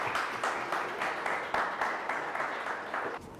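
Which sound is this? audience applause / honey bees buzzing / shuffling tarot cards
audience applause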